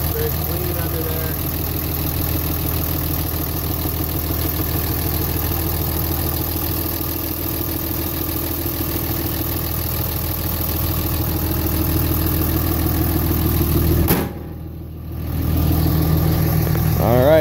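A 2006 Dodge Ram Mega Cab with a 5.9 liter engine, six-speed manual transmission and cold air intake idles with a steady, loud, rumbling drone. The sound cuts out briefly near the end before returning.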